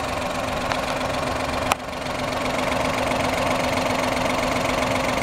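A Suzuki K6A engine in a 2008 Suzuki Wagon R (MH22S) idles steadily up close with an even, slightly knocking hum and one sharp click partway through.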